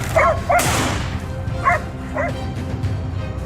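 Hunting dogs barking during a wild boar hunt in a farm field, with several short yips and barks in separate bursts at a moderate distance, over steady outdoor background noise.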